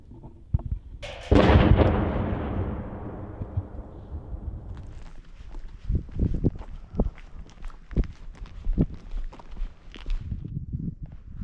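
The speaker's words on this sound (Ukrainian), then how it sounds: "Працює важка артилерія." Heavy artillery fires in a combat zone around Pokrovsk, Ukraine. One loud, close boom rolls and fades over several seconds, followed by scattered sharper thuds and cracks from various distances.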